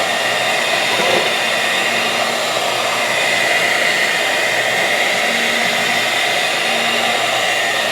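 An electric mixer whips eggs with sugar toward soft peaks for a soufflé omelette, giving a loud, steady whirring drone that runs unbroken from start to finish.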